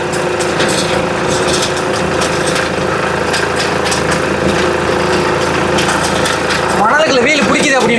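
A homemade mini train built from scrap materials runs slowly on sand, its small engine droning steadily with a clattering rattle, while voices talk over it near the end.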